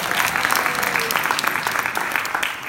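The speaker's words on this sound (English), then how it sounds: "Everyone give Peter a round of applause." An audience at a mayoral forum applauds a man named Peter as he stands, producing a dense, steady wash of clapping that is loud and continuous throughout with no talk.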